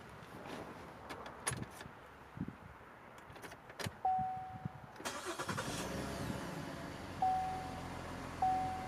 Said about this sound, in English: then we're going to start the car back up